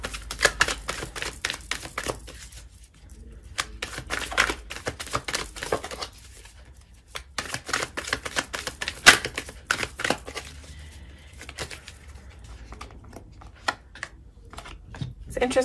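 Oracle and tarot cards being shuffled and handled, a run of crisp riffling flutters and taps in irregular bursts with quieter gaps, fairly close, with a voice speaking intermittently.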